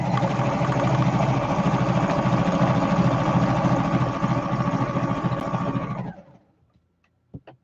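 A sewing machine stitches in a fast, even mechanical chatter for about six seconds, then stops, leaving near silence broken by one faint click.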